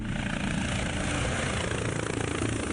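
An Ontario Provincial Police helicopter drones steadily overhead, its rotor and engine noise a continuous, fairly loud wash with no breaks across the stretch, and no one speaking.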